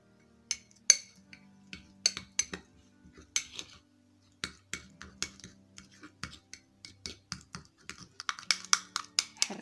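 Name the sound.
mixing potato mask with rose water in a bowl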